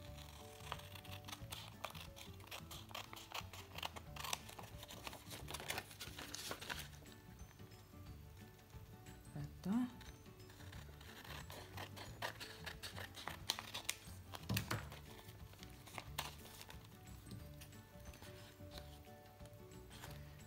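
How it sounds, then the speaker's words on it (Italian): Scissors trim paper for a botanical junk journal embellishment, making a long run of close, soft snips and crisp rustles at an uneven pace with no talk over it. "quindi prendo le forbici, magari queste qui che sono un po' più lunghe"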